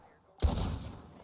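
A single loud close gunshot fired at bottles in a roleplay video game, a sudden sharp blast with a rumbling tail that fades over most of a second.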